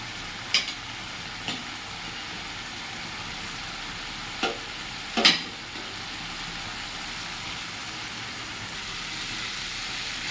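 Taro and egg curry stirred in a pan, with a steady low sizzle broken by a few sharp scraping clacks of the spoon, close and without talk.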